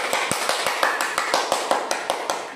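Rhythmic applause from a classroom of students for a classmate, a steady run of sharp, evenly spaced claps in unison at close range, continuing through the whole moment without talk.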